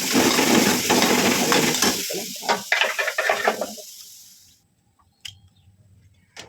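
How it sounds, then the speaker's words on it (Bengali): Onions and chillies hit hot oil in a pan with a loud sizzle and scraping stirs, then the frying fades to quiet with a few faint clinks of utensils. "পেঁয়াজ, মরিচ সবগুলো ভেজে দিই"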